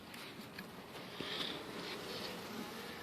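Honey bees buzzing around an open beehive, a dense, steady hum of many insects close by with individual bees droning past, no voices.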